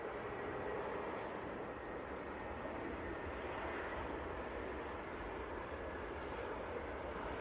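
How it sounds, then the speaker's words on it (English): An Airbus A321neo airliner at Manchester Airport in freezing winter weather, giving a continuous, fairly distant broadband engine roar that holds steady throughout with no voices. "A321 Neo."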